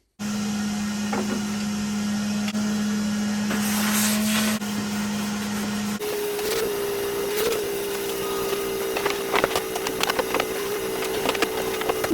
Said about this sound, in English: Let's give it a quick vacuum down and a bit of a clean up.